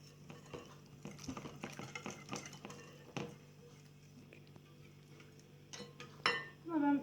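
Gluten-free crepe batter whisked in a bowl with quick, steady scraping strokes for the first few seconds, then a quieter stretch ending in a few louder clinks and clatter of utensils.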